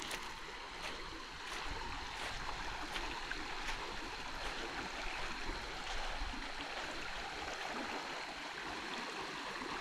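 The Menik river stream flows along a forest pilgrimage route toward Kataragama, a soft, constant babbling wash of running water with faint splashy ripples, heard alone and at moderate distance.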